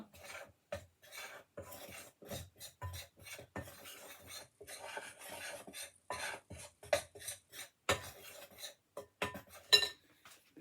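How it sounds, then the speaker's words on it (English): Dried fruit, apple, fat, sugar, flour and spices for a vegan fruit loaf are mixed together in irregular scraping, rasping strokes with faint clinks, close by, with no talking. "Then mix all that together."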